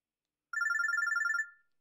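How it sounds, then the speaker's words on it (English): A phone ringing in the video game Robotics;Notes Elite: one short burst of rapid, evenly pulsed electronic bell tones, clear and isolated against silence, then a quick fade. "my phone droid begins to ring"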